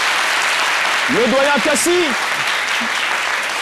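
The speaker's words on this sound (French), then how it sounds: "saluer autour de la table Alexandre Branger par vos applaudissements" A studio audience claps steadily throughout the few seconds, while a voice briefly speaks over the applause in French partway through.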